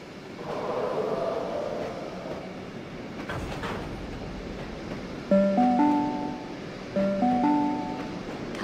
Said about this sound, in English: The next train does not stop at this platform.